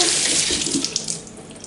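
Tap water runs steadily into a sink, splashing over a bull testicle being rinsed clean in a kitchen, a continuous close hiss with small splashy fluctuations and no talking.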